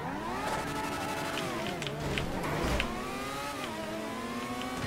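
Engine of a car driven in GTA V Online, a steady game-engine drone with shifting pitch that rises and falls as the vehicle turns and brakes, continuous and fairly loud throughout.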